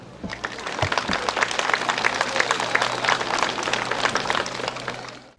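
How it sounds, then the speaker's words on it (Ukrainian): Warm, dense applause from an audience welcoming first-graders at a school Day of Knowledge ceremony in Vasylkiv, steady and close for several seconds before cutting off, with a faint low hum underneath. "Давайте ми їх так дружно підтримаємо оплесками."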